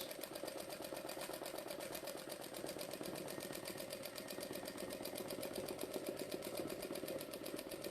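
A domestic sewing machine runs steadily at speed while free-motion quilting around a heart shape on a teddy-bear quilt, its rapid, even needle stitching carrying on continuously at moderate, close level with no talking.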